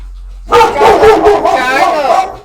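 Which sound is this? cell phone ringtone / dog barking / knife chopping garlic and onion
dog barking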